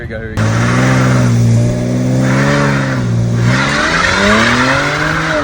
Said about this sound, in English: I've never done a burnout in an automatic car.